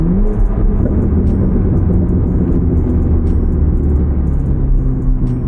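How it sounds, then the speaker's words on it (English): A 1000-horsepower Corvette ZR1 accelerates hard on the road, its engine a loud, steady, deep rumbling roar heard from close by with no talking. "did y'all just hear this fucking car?"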